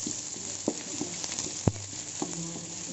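Garlic frying in a small amount of reused cooking oil gives a steady close sizzle with faint crackles and a few soft stirring knocks.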